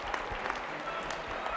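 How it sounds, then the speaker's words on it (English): A convocation audience claps in a brief, dense burst of applause, steady and fairly close throughout. "Give them a round of applause for their help."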